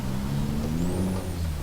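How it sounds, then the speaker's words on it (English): Peterbilt 389 truck engine in Euro Truck Simulator 2 on Scandinavian roads, a loud, steady low diesel drone heard close, running alone without talk. "the engine is quite loud"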